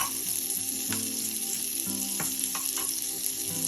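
Butter heats in a non-stick pan before eggs go in for scrambling, a steady close crackling sizzle with small pops and light clinks scattered through it, no speech.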